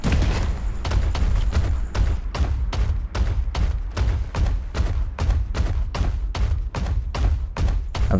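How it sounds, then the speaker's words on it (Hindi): Rapid bursts of gunfire in PUBG Mobile, a steady run of sharp, loud shots cracking out one after another from behind the player's position with no talk over them. "अचानक पीछे से होता है फायर"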